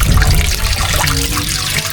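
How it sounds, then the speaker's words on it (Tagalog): Tap water running steadily over ube yams being rinsed in a sink, a close, loud, splashing wash that carries on without pause. "Mahina yung tubig. Ating hugasan lang yung mga ubi."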